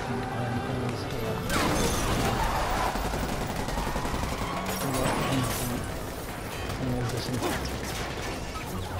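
Video-game gunfire aimed at police officers in a Times Square shootout: loud, dense bursts of shots and clattering impacts come in waves over about nine seconds, mixed with other game noise.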